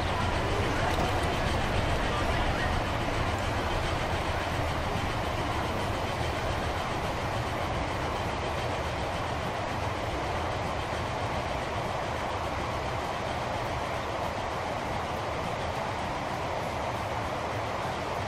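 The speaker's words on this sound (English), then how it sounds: "You get a proper look at this entire train." A freight train runs in the Transport Fever game, giving a steady continuous rumble with broadband rail noise throughout, constant in loudness.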